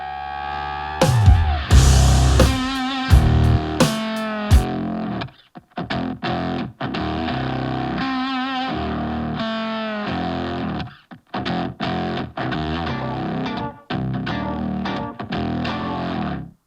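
A Fender Stratocaster chorus part is played loud and dense through high-headroom clean amps with fuzz and effects, as a continuous distorted wash with a few short breaks and no talking.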